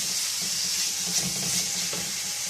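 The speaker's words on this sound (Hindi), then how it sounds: "अब हम इसमें 1 चम्मच लहसुन कुटा हुआ ऐड करेंगे और इसको अच्छे से फ्राई कर लेंगे।" Small chicken pieces fry with crushed garlic in a pan, giving a loud, continuous close-up sizzle with faint stirring movement and no talking.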